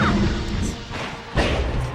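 In a Super Smash Bros. doubles match, a down smash attack by the side of the stage lands with two sharp, heavy crashing impacts about a second apart, with brief whooshes around them.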